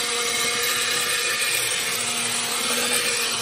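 An immersion blender whirs steadily in a pot of beans and liquid, a continuous high motor drone with no pauses, close and fairly loud throughout.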